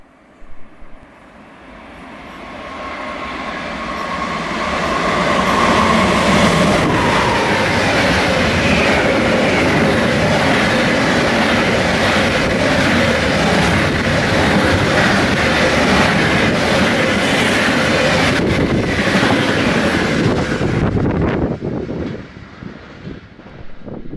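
A night train with party cars, seating cars and couchette cars rumbles past close by, building to a loud, sustained roar of rolling wheels with rhythmic clatter, then fading away at the end.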